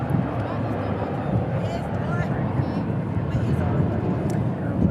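An American Airlines airliner in World Cup livery roars past at a large airport, a broad steady engine rumble that stays loud and close throughout, with no clear talk over it.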